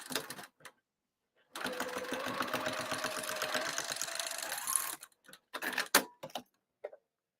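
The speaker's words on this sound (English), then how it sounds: "I'm going to sew it at 4 and back tack" A sewing machine top-stitches a cross-body bag lining at stitch length 4 in one steady run of about three seconds with a clear rhythmic ticking. It stops, then gives a few short back-tack bursts.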